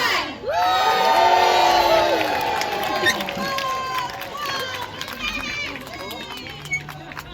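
An audience at a sea lion show at West Midlands Safari Park in Bewdley, England cheers and shouts loudly, with children's high whoops rising over the crowd and then fading into scattered voices.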